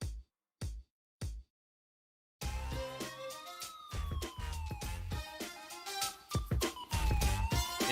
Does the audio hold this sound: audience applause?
no